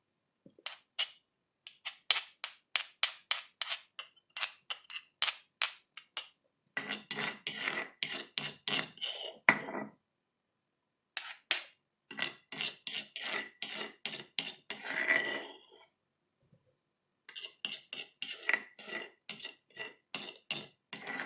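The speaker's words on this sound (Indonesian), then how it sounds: "kita campurkan kunyit dan kemiri halusnya ke dalam parutan lengkuas" Spoon or utensil scraping and mixing turmeric and candlenut paste into grated galangal, garlic and ginger in a bowl, repeated rhythmic scratchy strokes in bursts separated by short pauses, close and fairly quiet.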